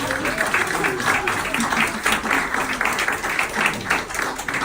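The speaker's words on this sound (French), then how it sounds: "je pense même qu'on peut les applaudir" Steady audience applause at an art exhibition opening, a warm continuous wash of many hands clapping that holds evenly throughout, with faint voices beneath.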